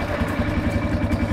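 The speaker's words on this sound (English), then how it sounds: "A lot of the sound of the motorcycle comes from the muffler" A push-button-started motorcycle engine idling close up, with a loud, steady, throbbing exhaust pulse from the muffler and a rapid even rhythm with no other sounds.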